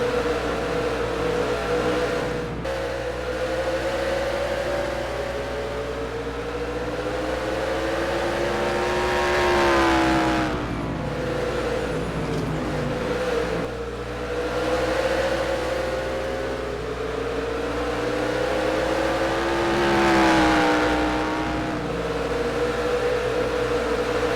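Stock cars race around Martinsville in the NR2003 racing game, engines droning continuously with rising and falling pitch as cars rev through corners and pass, steady and loud throughout with no talk.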